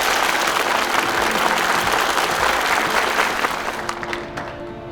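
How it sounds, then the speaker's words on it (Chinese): Warm applause from a hall audience welcoming the writer Wang Luyan, a dense sustained clapping that swells briefly and fades near the end. "让我们用热烈的掌声，有请我们的著名作家王鲁彦致桂林分会全体会员的宣言，掌声欢迎！"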